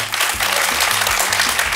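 A studio audience on a Turkish late-night talk show claps steadily and loudly throughout, a dense wash of applause with a low musical hum beneath it.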